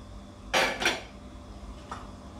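Dry puffed rice (murmura) poured into a large bowl for matki bhel, two quick rustling, clattering bursts close by, then a fainter patter, with no talk.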